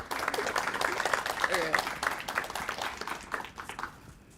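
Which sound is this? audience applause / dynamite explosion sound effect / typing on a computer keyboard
audience applause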